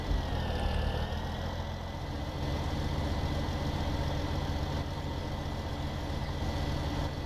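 Tractor engine in Farming Simulator 17 idles in a steady, moderately loud mechanical drone that runs without a break, with no clear wheelspin burst standing out.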